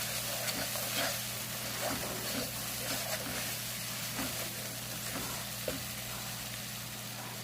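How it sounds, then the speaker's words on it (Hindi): Spices with chili powder and ground coriander frying in a pan for chicken kaleji, a steady, close sizzle with soft stirring scrapes, alone and fairly quiet. "मसाले को अच्छे से भून लेंगे"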